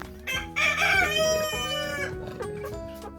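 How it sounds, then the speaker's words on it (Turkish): An Americano or Warburg rooster crows loudly nearby in a coop, a drawn-out call joined by overlapping crowing and clucking from other fowl. "burada Amerikano ve Warburg horozlarımız var"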